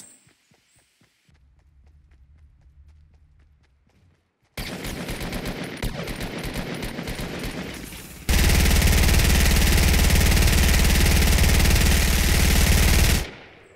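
Gunfire in the Fortnite video game: faint thuds, then a sudden loud stretch of dense rapid firing that grows even louder and more continuous before cutting off abruptly.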